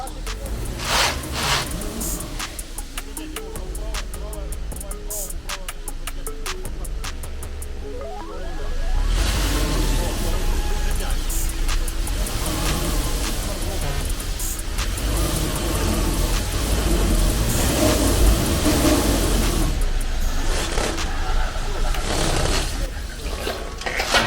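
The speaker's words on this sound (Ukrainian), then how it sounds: "праве колесо просто на мокрому асфальті пробуксовує" A Subaru's right wheel spins on wet asphalt, the engine revving up into a steady loud roar with a hissing, splashing whine, while people talk throughout.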